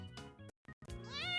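A person imitates a cat, voicing two short meow-like calls close up, the second rising and drawn out, with no other talk.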